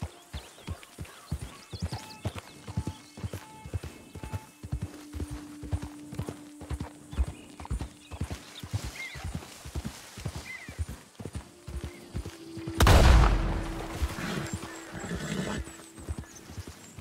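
Horse hooves clip-clop in a steady walking rhythm with repeated whinnies and neighs, plus a louder burst of sound near the end, all in the Western video game Red Dead Redemption during a hunt on horseback.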